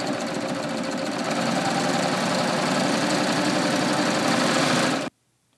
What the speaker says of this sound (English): And then I'm gonna start serging.